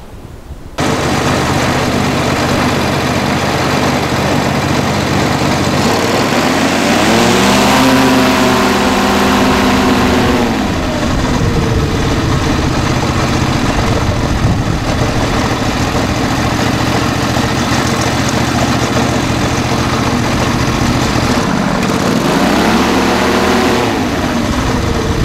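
A Kohler ultralight engine runs loud and close as it warms up, holding a steady rough drone for about twenty-five seconds, with its pitch dipping and rising around two points.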